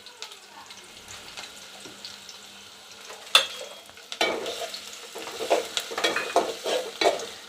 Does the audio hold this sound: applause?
no